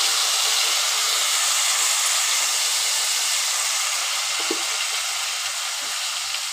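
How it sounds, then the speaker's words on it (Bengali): Tomato and capsicum paste hitting hot oil in a pan gives a steady, bright sizzling hiss that holds constant throughout, with no talking. "এই যে টমেটো আর ক্যাপসিকাম আমি পেস্ট করে রেখেছি, এটা আমি এবার তেলের উপর দিচ্ছি।"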